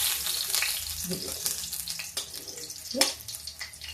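Jaljeera vada, halwai-style lentil fritters, frying in a little oil, with a steady close hiss of bubbling oil, soft scraping and a brief louder flare of sizzle near the end.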